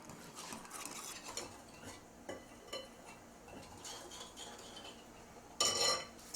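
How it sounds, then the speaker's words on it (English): Ingredients being whisked in a bowl for a saffron chicken potato salad: quick, close metallic clinks and scrapes in an uneven rhythm, ending in a brief louder flurry of clattering. "We're going to whisk all that up."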